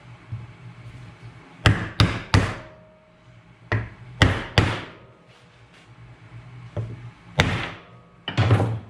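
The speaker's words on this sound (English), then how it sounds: "I'm gonna go ahead and tap in the dust cover seal." Hammer tapping a dust cover seal into a new wheel hub during a brake upgrade on a 3rd-gen Camaro, in sharp metallic strikes grouped in twos and threes with short pauses between.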